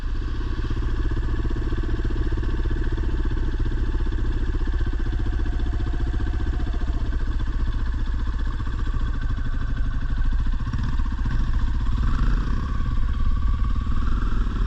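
A dirt bike engine idles and runs steadily as a beginner works the throttle and clutch, a continuous mid-pitched motor drone close by with slight rises near the end.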